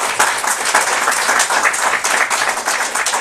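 A church congregation claps loudly for the Lord during a Spanish-language worship service, with dense, steady applause that has sharp clap accents throughout.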